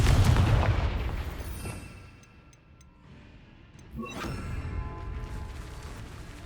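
A Confringo blasting spell explodes in Hogwarts Legacy with a heavy booming burst at the start that fades over a couple of seconds, then a second, softer blast with rumbling tail.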